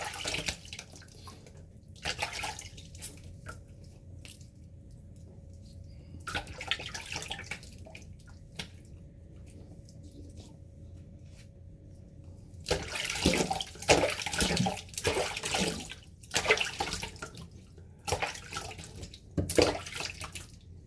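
Tap water running into a sink for a razor rinse after a shaving pass, a soft steady stream broken into several bursts with splashing and quiet pauses between.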